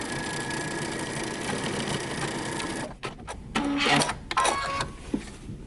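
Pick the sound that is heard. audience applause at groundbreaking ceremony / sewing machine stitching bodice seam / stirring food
sewing machine stitching bodice seam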